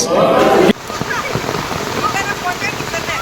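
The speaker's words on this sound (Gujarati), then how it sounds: "તમે જોઈ શકો છો વરસાદ પડે છે" Steady rain pours down over village farm fields with a broad hiss after a brief louder burst at the start, while voices murmur faintly underneath.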